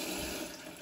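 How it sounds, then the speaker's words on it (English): Cold water pours steadily into a container of maize bait for carp fishing, a short, continuous rushing splash that stays loud and close throughout. "Again, just fill it up with cold water the night before."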